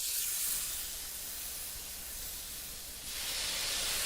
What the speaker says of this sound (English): I don't want to burn the coffee, but I do want to give it a good sear